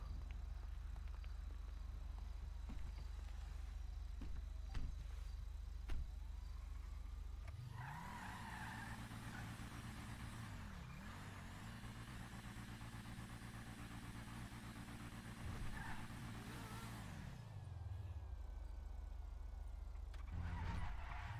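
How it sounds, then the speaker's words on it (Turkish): A car engine in a video game roleplay revs up loudly, then holds a steady roar with a brief dip midway before cutting off, alone without talk. "Bu araba niye çok bağırıyor ya?"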